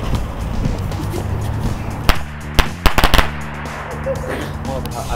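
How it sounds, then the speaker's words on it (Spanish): Weak Chinese firecrackers go off outdoors at a Falla celebration in Spain: a few sharp, loud cracks in a quick irregular cluster over a steady crowd murmur and background talk. "esos son chinos, esos son los petardos más flojos que hay"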